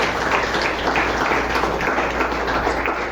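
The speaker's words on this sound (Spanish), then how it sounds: "Dale un fuerte aplauso al Señor por su amor y su misericordia" Church congregation applauding together, a steady dense wash of clapping that holds evenly and fairly loud throughout with no voices on top.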